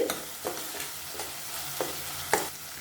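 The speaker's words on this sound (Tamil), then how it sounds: "இந்த தக்காளி நல்லா வதக்கி விட்டுக்கலாம்" Small chopped tomatoes are sautéed in a pan for a Tirunelveli-style Pongal jackfruit kuzhambu, with rhythmic scraping stir strokes about every half second over a soft continuous sizzle.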